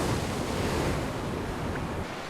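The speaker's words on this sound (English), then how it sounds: "Saul, all I hear is thrashing waves" Ocean waves thrash and smash against rocks near Strawberry Island as the wind picks up, a dense, continuous roar buffeted by wind noise on the microphone.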